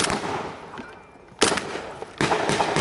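Rapid gunfire at a D-Day battle reenactment at the La Fière Bridge, with loud bursts of crackling shots up close, a short lull, then more sustained firing.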